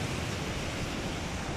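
Steady rushing water from a waterfall channelled to turn an old flour mill in Baboon Valley, Neelum, Kashmir, a constant broadband roar, close and unbroken, with no voices.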